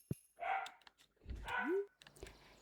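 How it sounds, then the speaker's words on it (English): A real dog barks a few short, distant yips and woofs in the room, with a brief whimpering whine between them, heard faintly against quiet game ambience. "you can hear my real dog barking in the background"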